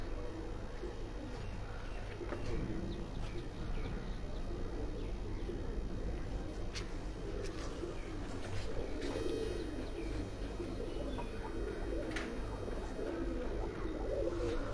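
Golden pigeons kept on a haveli rooftop coo faintly and repeatedly in the distance across a steady background hum, with indistinct voices now and then.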